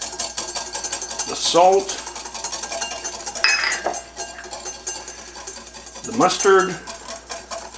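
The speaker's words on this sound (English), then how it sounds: "the directions say to start whisking the egg yolk" Egg yolk whisked in a bowl for homemade mayonnaise, a light rhythmic ticking of the whisk running beneath a person talking close by.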